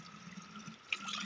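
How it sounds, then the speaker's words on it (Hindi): Pure spring water runs into a bottle outdoors as a soft, steady trickle and splash, fairly faint, with one brief brighter splash near the end. "तो फाइनली हमने अपनी बोतल में पानी भर लिया।"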